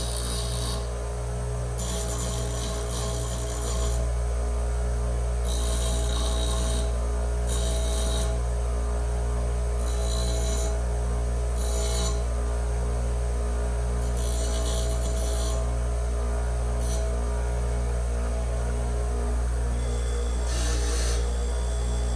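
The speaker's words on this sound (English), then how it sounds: "Okay, we're over here at the grinder. I've decided, I think I'm gonna even that end up" A bench grinder runs with a constant low motor hum while the end of a replacement reed for an antique jaw harp is pressed to it in short bursts, giving repeated brief, hissing grinding passes.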